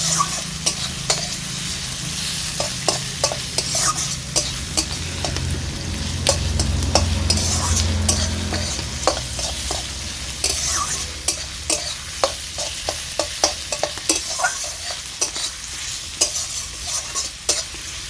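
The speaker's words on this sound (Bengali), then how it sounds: "পেঁয়াজ কুচিটাকে আমি ভালো করে নেড়ে চেড়ে নিচ্ছি।" Chopped onions frying in oil while being stirred, a continuous close sizzle punctuated by many quick scraping and tapping strokes of a spatula against the pan, with no voices.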